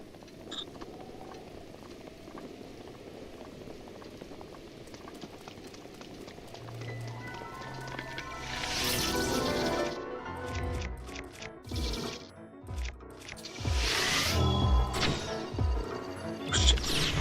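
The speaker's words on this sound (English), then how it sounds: "It's raining again." Rain falling in Zelda: Breath of the Wild, a steady soft hiss that thickens midway and is joined by sharp in-game impacts and thuds, with no talking.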